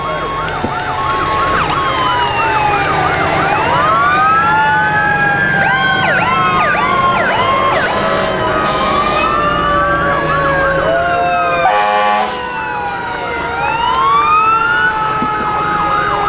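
Several wailing fire engine sirens sweep up and down together in a festival parade, loud and close, with engine rumble beneath and a brief dip in the middle.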